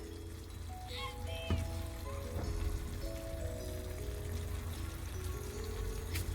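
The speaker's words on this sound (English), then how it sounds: "you're gonna let this just simmer for 1 minute because you don't want the vinegar to dry out" Jamaican escovitch sauce of vinegar and vegetables simmers in a pan with a faint, steady bubbling patter under quiet background music.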